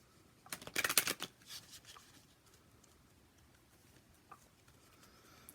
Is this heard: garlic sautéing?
no